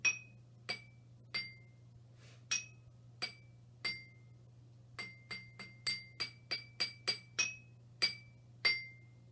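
Water glasses and jars are tapped to play Hot Cross Buns, a series of clear ringing pings in the tune's rhythm, some quick runs of shorter notes, over a steady low hum.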